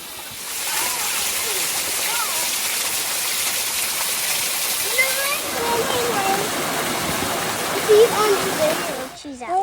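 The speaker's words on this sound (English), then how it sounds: "That's the waterfall." Steady broadband rush of a waterfall fills the clip, with a few brief voices and birdlike chirps faintly above the roar.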